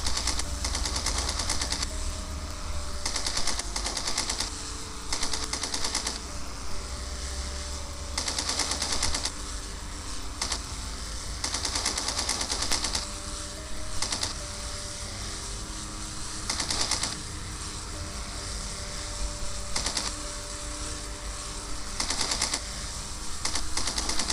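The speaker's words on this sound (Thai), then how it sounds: "ได้จังหวะแล้วยิง ยิงอย่างเดียวนะครับ" Machine gun fire in the aerial combat game Wings of Steel, repeated long rattling bursts separated by short pauses over a constant engine drone, with no speech.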